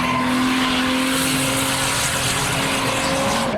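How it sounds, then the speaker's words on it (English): A rotary-engined Mazda pickup drifts at a modified car event. The engine holds a loud, sustained high drone from start to end, and a harsh tire squeal and skid sound mixes in with it. "Someone's drifting in a rotary pickup."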